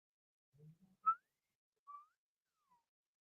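A person whistles a few short, clear notes with pauses between them, mostly isolated in a quiet room, after a couple of soft low sounds at the start.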